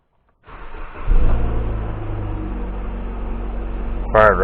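A 2011 Jeep Patriot with the 2.4L engine cranks briefly, fires and settles into a steady, close idle hum, with a short higher-pitched whine at the end.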